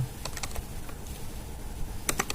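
A command being typed on a computer keyboard in an Ubuntu terminal, a few sharp close keystrokes at the start and another quick cluster near the end, with a quiet gap between and no speech.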